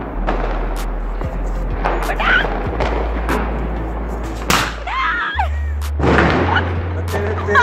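Diwali firecrackers bursting outdoors, several sharp loud bangs and cracks scattered through the stretch with crackling between, over a steady low hum, with people talking in the background.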